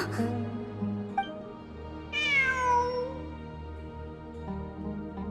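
A cat meows in the Genshin Impact video game, with a long rising-and-falling cry standing out clearly over a steady musical background, and a couple of shorter, fainter meows around it.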